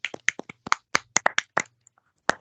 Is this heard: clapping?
yes